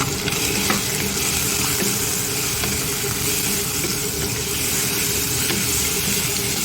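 Chicken adobo is stirred in a hot pan with black pepper and turmeric, a close, continuous sizzle and frying hiss with soft scraping from the mixing throughout.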